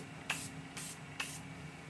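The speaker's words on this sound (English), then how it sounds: "last but not least, my Morphe setting spray" Morphe setting spray misted from a pump bottle: three short, soft hissing spritzes spaced evenly apart, close and quiet over a faint background hum.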